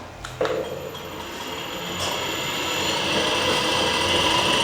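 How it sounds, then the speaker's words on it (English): A lathe tool scrapes a thread on an alloy steel screw for a Vevor milling vice, giving a steady, fairly quiet scraping hiss with a few sharp clicks early on that slowly grows a little louder. "So you might hear a bit of scraping."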